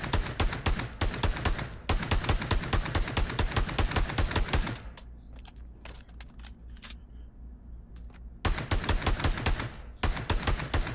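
Glock pistol fire in the VR shooter Pavlov, long bursts of rapid, evenly spaced sharp cracks. A pause in the middle holds a few scattered clicks and knocks before the rapid firing resumes, close and loud.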